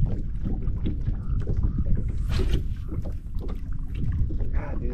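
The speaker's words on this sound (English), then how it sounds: "this fucking wind" Strong wind buffeting a fishing boat on Lake Pleasant, a steady close rumble and roar of gusts across the microphone, with water and boat noise underneath.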